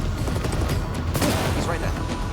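Gunfire in the shooter game S.T.A.L.K.E.R. 2: Heart of Chornobyl, a dense burst of rapid shots and booms that runs the whole time, mixed with game noise and voices.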